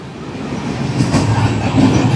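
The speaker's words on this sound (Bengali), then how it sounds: "নিচে ট্রেন যাচ্ছে, আমরা উপরে।" Train passing beneath a bridge, a loud, close rumble of rolling wheels and carriages that swells and holds steady for a couple of seconds.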